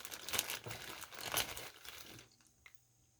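Plastic bag holding a motor mount screw crinkling and rustling up close in several quick bursts, then fading to near silence with one small crackle.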